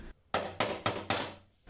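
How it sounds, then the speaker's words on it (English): A hammer strikes a flathead screwdriver to knock loose the fuel tank lock ring on a Fiero. There are four sharp, evenly spaced metallic taps, close and loud, with no talking. "So using a flathead screwdriver and a hammer,"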